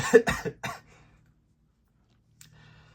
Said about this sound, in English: This video is going to be hard not to cough